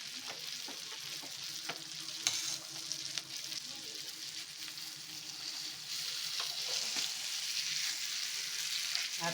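Bangada mackerel fish frying on a flat tawa gives a steady, dense sizzle throughout, with occasional soft clicks and taps from handling the pieces; no voices.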